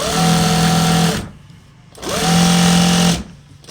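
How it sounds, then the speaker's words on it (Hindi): A simple domestic sewing machine stitching fabric, in two loud bursts of steady whirring hum about a second each, separated by a short quiet pause, close up and alone. "ये सिंपल सिलाई मशीन से हो रहा है।"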